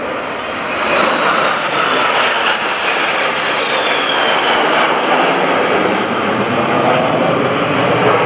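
Loud, sustained roar of a flight of three F-18 jets passing overhead at the NAS Oceana airshow, a broad rushing engine noise that swells and holds steadily with no talking.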